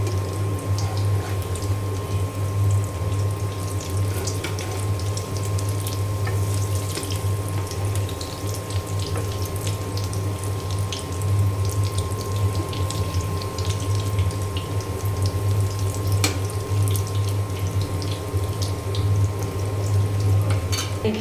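Egg and potato chops fry in a pan of oil, making a continuous, even sizzling hiss that holds steady throughout without any talk.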